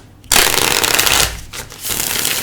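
A deck of tarot cards is shuffled close up, a dense papery riffle and rustle that starts abruptly, dips briefly and then resumes.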